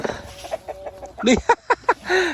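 Native hens on a farm give a short run of soft clucks and a few sharper, higher calls, close by, with a little background voice.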